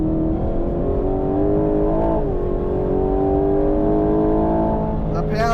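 A 2025 Aston Martin Vantage accelerates hard on a race track, its engine a loud, close, steady drone that climbs slowly in pitch throughout.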